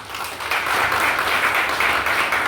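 Applause from a crowd at a workers' union anniversary celebration, a steady wash of clapping that swells after a brief start and holds loud and dense.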